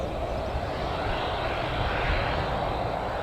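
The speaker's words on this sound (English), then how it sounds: "The next aircraft to leave might be the EasyJet." An EasyJet airliner's jet engines roar as it departs Newcastle Airport, a loud, steady broadband rush heard from nearby with no voices.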